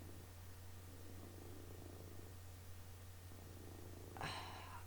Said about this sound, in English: Can you hear this cat purring?